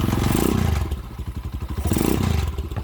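A 200cc converted motorcycle engine is kick-started, giving close mechanical clatter and thumping bursts that catch into a rapid, pulsing engine idle between two louder revs.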